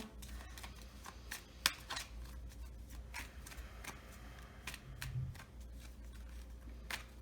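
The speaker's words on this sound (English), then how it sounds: "Yeah, I should shuffle, huh?" A tarot card deck being shuffled by hand, soft rapid riffling and ruffling with a few sharper snaps and taps, close and quiet, no talking.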